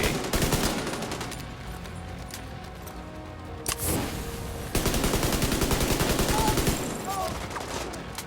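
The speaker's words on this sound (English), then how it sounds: "Check out this cover-based shooting gameplay." Sustained bursts of automatic gunfire in The Division 2 cover-based shooter on PC, with dense overlapping shots, a brief lull, then a louder renewed barrage close up.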